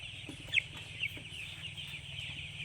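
Faint clucking and peeping from eight-day-old broiler chicks in a steady background hum, with a couple of brief sharp chirps standing out.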